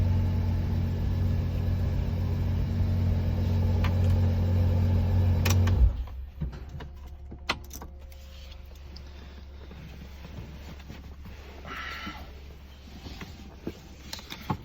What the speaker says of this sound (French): le V12 atmosphérique chante tellement bien qu'on a envie de l'entendre